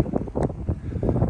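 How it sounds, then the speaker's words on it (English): Outdoor wind gusts buffet the microphone in uneven, rumbling bursts that rise and fall rapidly, loud and close with no voices. "Sorry about the wind. I know it's picked up"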